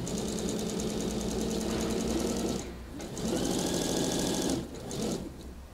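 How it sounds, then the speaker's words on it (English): A sewing machine runs in two long bursts of steady, rapid stitching as fabric is rolled over and top stitched along a seam of a coat or hoodie, loud and close, with a short pause between runs. "And then you just simply roll the fabric over and top stitch it all the way down."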